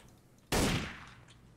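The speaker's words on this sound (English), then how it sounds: "Heard a gunshot. That was me." A single loud gunshot rings out in the video game Trouble in Terrorist Town, a sharp burst followed by a decaying tail, with quiet game ambience before it.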